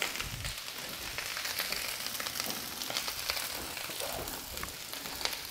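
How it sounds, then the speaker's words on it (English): Polish sausage and onions fry on a Camp Chef FTG600 griddle, giving a steady, faint sizzle with small crackles and occasional stirring scrapes. "start grilling the Polish sausage to brown it up"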